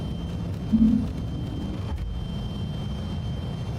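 A Fokker F28 jet in Microsoft Flight Simulator takes off with a steady, low engine roar and a broad rushing drone, a brief louder swell near the start, and no speech over it.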